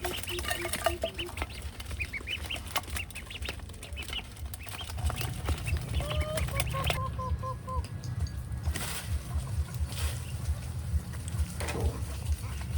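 Farm chickens in rural Vietnam cluck and flap around while pecking at rice grains, a busy flock of overlapping clucks and calls heard close by with steady scratching and rustling underneath.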